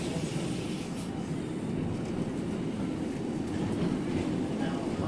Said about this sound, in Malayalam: ട്രാം സർവീസ് അപ്പുറത്തെ വഴി കടന്നു.